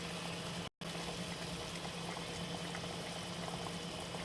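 Oxtail with coconut milk boiling steadily in a pot over a high flame, a close, continuous bubbling rumble that holds even throughout, broken only by a split-second gap.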